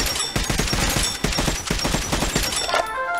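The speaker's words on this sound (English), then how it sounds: "I shoot four more in 10 seconds" Rapid gunshots in Metro: Last Light Redux, a quick run of loud, sharp reports in a steady rhythm, about a dozen shots, then tapering off at the end.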